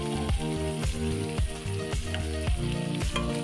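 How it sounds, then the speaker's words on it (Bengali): Potatoes sizzle and fry steadily in a pan of hot oil, a dense close crackle with repeated sharp clanks of a utensil stirring roughly every half second. "দেখো আলুটা ভেজে নিয়েছি, এবার একটু নুন আর হলুদ দিয়ে নিচ্ছি"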